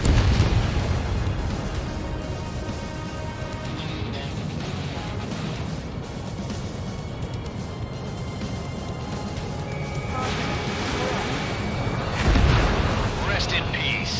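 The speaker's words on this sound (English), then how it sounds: "Missile launched." A missile launch and explosions in the Ace Combat 7: Skies Unknown flight combat game, with a continuous loud roar of jet engine and booms under game audio, and a heavier burst near the end.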